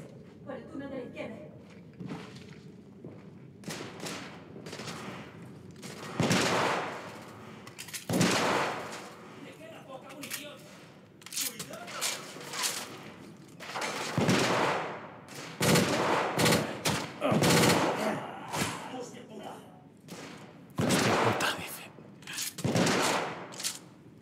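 Machine gun fire and other gunshots in the video game The Order: 1886, coming in irregular bursts and single cracks over roughly twenty seconds, mixed with game sounds while someone talks over it.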